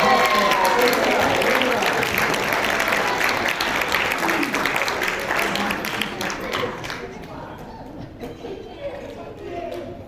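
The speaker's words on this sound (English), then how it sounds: "Everybody give her a big round of applause" A crowd at a church dinner magic show bursts into loud, dense applause that gradually thins and fades toward the end, with a few scattered claps and murmurs trailing off.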